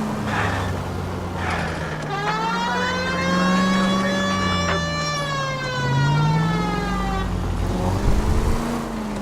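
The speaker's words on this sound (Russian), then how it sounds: "Без сирены же типа нельзя." A police car siren in the video game L.A. Noire wails continuously, rising and falling in pitch over a low engine rumble, loud and close throughout.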